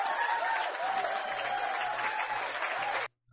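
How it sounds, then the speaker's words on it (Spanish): An audience applauds steadily for about three seconds, a dense wash of clapping that stops abruptly. "Por ahí vamos a escuchar a los que aplauden a Eliezer."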